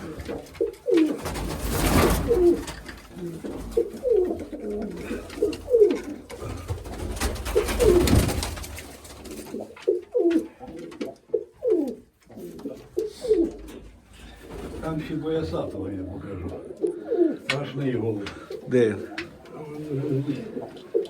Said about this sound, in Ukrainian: Так що такі голуби.